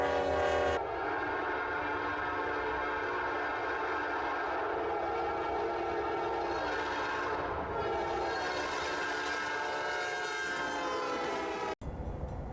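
A freight train rams through a wall of deep snow in Rulton, Kansas, as a loud, steady rumble with sustained horn tones that holds for about eleven seconds before cutting off abruptly.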